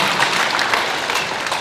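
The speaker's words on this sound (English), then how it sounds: "One more round of applause for an awesome woman, awesome woman." A crowd at an employment and training services event applauds, a steady, fairly loud wash of many hands clapping throughout the short burst.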